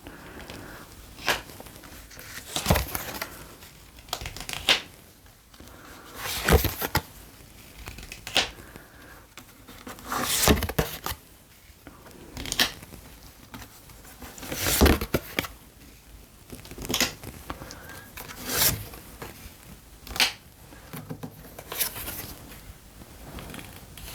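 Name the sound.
drawing seven tarot cards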